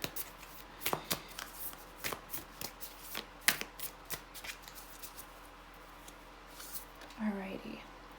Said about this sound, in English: I'm gonna pull 6 tarot cards for you